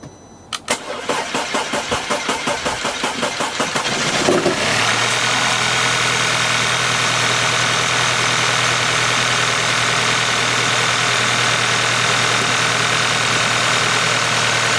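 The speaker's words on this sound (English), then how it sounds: "I mean, the car is starting" A 2009 Audi A4 with a previously seized engine cranks rapidly for several seconds, catches, and settles into a steady, loud idle that runs on evenly to the end.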